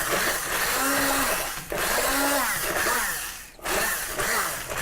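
An electric appliance whirs loudly, pulverizing fruit for homemade jam, in two long continuous bursts with a brief dip between them and a steady mechanical whine throughout.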